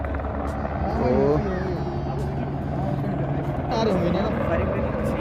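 A landing helicopter's rotor thrum and engine whine drone steadily at moderate distance at Gauchar helipad while people talk over it.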